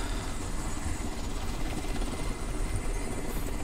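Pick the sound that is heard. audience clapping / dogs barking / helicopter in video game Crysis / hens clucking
helicopter in video game Crysis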